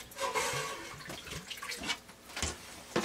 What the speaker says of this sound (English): pour some water in my container